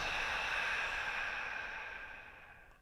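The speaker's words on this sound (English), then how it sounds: "Without moving, take another deep awareness breath. And on the exhale" A single long, deep exhale during a guided meditation, a close breathy whoosh that slowly fades over about three seconds with no talk.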